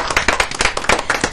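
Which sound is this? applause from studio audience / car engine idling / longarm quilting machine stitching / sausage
applause from studio audience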